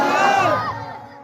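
A crowd roars a religious chant in unison at a gathering addressed by a preacher, a loud, brief swell of massed voices that fades away within about a second.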